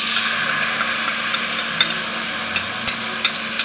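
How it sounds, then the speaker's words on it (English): Sauce sizzles in a clean pan with two tablespoons of deep-frying oil, a steady hissing crackle with occasional sharper pops, close and continuous, with a low hum underneath. "I took 2 tablespoons of oil that I've deep fried them in, put them in a clean pan, and now we're going to add our sauce in there"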